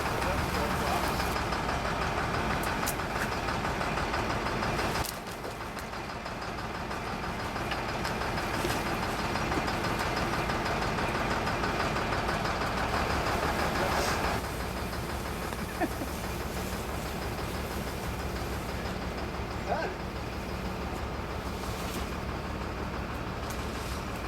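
A dump truck engine runs at a steady idle, a rumbling drone that goes on throughout while garden branches are loaded. Talk sits over the engine at times.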